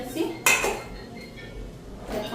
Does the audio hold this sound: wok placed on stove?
yes